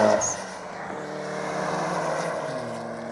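A Mitsubishi Evo 8 race car running about 18 pounds of boost passes down the front straightaway of a mile-and-a-half oval track, a steady loud engine roar that swells and shifts in pitch as it goes by.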